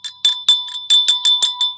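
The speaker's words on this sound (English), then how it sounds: "That's a bell ringing event." Small bell rung in a quick series of about eight bright, metallic strikes, clear and fairly close, each ringing briefly with a steady high hum behind them and no voices.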